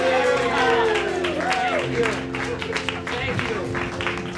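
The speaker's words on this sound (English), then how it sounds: "Let's give our volunteers a round of applause." An improv comedy audience applauds its volunteers at a live show, clapping and crowd noise blending with background music and vocal sounds that fade out over a few seconds.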